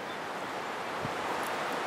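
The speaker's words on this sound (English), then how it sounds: "Yeah, you can tell how windy it is." Soft, steady wind hissing outdoors, with a gentle rustling texture and no voices, fairly faint and continuous.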